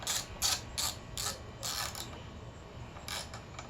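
Heat shield bolts on an Echo string trimmer being snugged up with a small ratchet, close, quiet clicking bursts of the ratchet pawl in short uneven runs.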